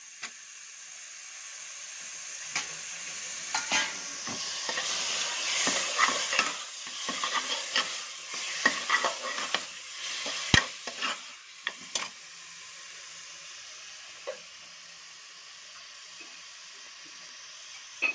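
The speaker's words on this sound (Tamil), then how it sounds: "இப்போது சிக்கனை போட்டு நல்லா மசாலாவோட கலக்கிக்கலாம்" Chicken and masala being stirred and fried in a pan for chicken kuzhambu, giving a steady sizzle with repeated scraping and clinking of a spoon against the pot, close and moderately quiet, no speech.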